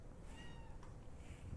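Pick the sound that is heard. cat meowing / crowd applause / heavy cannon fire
cat meowing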